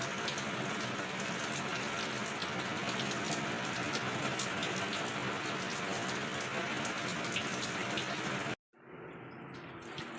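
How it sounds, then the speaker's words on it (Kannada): Heavy monsoon rain pours steadily outside an old village house, a dense, loud hiss of drops on surfaces that runs continuously before cutting off abruptly near the end, leaving quieter background sound. "ಅಷ್ಟು ಮಳೆ ಐತಿ"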